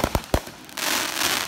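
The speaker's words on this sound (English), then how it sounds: "watched the fireworks," Fourth of July fireworks bursting nearby, three sharp loud bangs in quick succession followed by a sustained crackling, hissing shower of sparks, with no voices.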